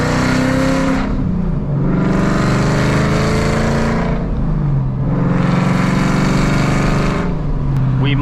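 Ford Mustang with a loud aftermarket exhaust revving hard while driving, two long high-revving pulls rising and then dropping off between shifts, loud and close throughout.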